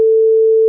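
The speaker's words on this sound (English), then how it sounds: "Like when we press that, get buzzer notification" The controller of a PIC16F877A-based washing machine gives a single short, steady electronic buzzer beep, loud and clean, with no other sound around it.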